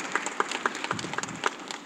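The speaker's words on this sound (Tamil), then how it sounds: "அதை நான் சொல்லும் போது கைதட்டுறீங்க இல்லையா" Small audience at a speech event clapping in a brief, thin burst of applause, scattered claps at an uneven pace, fairly close and moderately loud.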